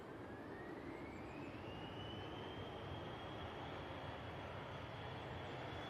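An Emirates Airbus A380 airliner touches down at Manchester Airport, a steady broad roar of engines and airflow with a slowly rising whine, continuous and fairly distant, with no talk.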